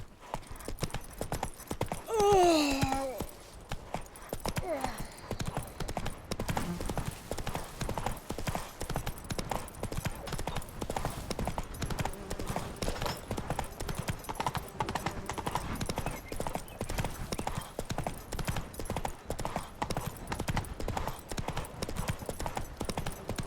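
Roach the horse trotting in The Witcher 3, with steady rapid hoof clip-clops over a continuous rumble and a brief whinny near the start, no talking.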